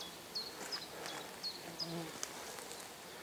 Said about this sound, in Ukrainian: квітує аморфа, годуть на аморфі бджоли